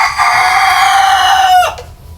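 An Elba rooster (ayam jago) crows close and loud in one long sustained call that breaks off sharply near the end, with no voices over it.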